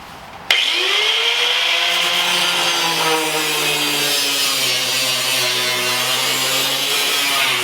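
A power tool starts abruptly and cuts into metal on a lifted Mazda Miata. A loud, sustained high-pitched grinding whine runs steadily for several seconds, with slowly shifting tones and no pauses. Nobody speaks.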